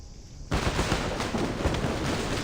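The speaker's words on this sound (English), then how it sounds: "The sounds of gunfire echo from outside the courtyard." Dense, continuous gunfire crackles and booms from outside a courtyard in a video game, cutting in abruptly after a brief quiet lead-in and then sustaining a loud, rapid, echoing barrage with no talk over it.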